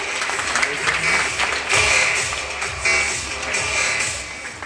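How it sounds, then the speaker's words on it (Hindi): An audience at a motivational event in Delhi applauds loudly, the clapping swelling and easing in waves, with some voices faintly mixed in beneath it. "इनके लिए आशीर्वाद में तालियां जोरदार बजा दीजिए"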